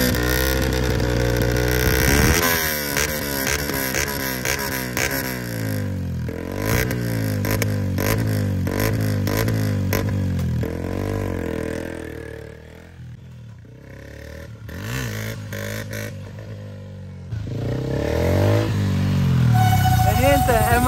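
A 2021 Beta 125 four-stroke enduro motorcycle idles and revs in repeated rising and falling pulls, loud and close, with a voice talking over parts of it.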